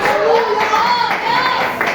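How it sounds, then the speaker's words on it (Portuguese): Church congregation clapping hands in praise during a worship service, rhythmic clapping with a crowd of voices singing or calling out over it, loud and close. "dá uma salva de palmas bem alegre para Jesus. Bate as palmas e dá glória a Deus."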